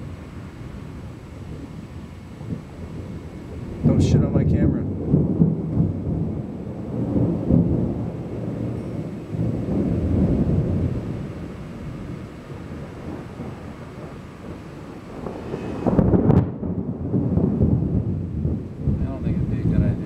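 Thunder during an outdoor thunderstorm, with deep rolling rumbles swelling twice to loud peaks over wind buffeting the microphone, while a person says a few words briefly near the start.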